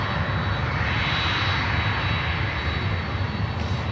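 An Avianca Cargo airliner departing, a loud, dense jet engine roar that stays strong and steady throughout, close and alone with no talk.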